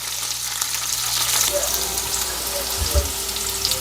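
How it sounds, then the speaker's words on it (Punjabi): Okra (ladyfinger) frying in oil in a pan, giving a soft, steady sizzle with faint stirring clatter and a couple of low knocks near the end. "ਪੰਜ ਪੰਜ ਤੋਂ 7 ਮਿੰਟ ਅਸੀਂ ਇਹਨੂੰ ਫਰਾਈ ਕਰਾਂਗੇ"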